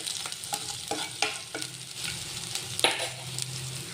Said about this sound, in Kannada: ಶುಂಠಿ ಬೆಳ್ಳುಳ್ಳಿ ತೊಗೊಂಡಿದ್ವಲ್ಲ ಅದು ಹಾಕೋಣ. ಒಂದು 10 ಸೆಕೆಂಡ್ ಫ್ರೈ ಆಗಲಿ.